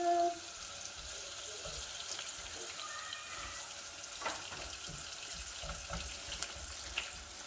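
Chopped onion frying in hot oil in a pan during Ghanaian angwamo cooking, a steady soft sizzle and crackle holding at low level for several seconds, with faint intermittent pops and no talking.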